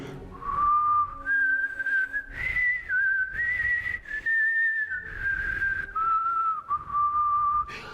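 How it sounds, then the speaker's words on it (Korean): A man whistles a continuous, wavering melody close to the microphone, keeping the tone going while breathing in and out, with only brief dips between phrases and no talking. "저는 휘파람을 불어도 안 쉽니다"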